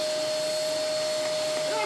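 A Hoover Portapower S1126 vacuum cleaner runs with a loud, steady whine and airy roar, constant and close throughout.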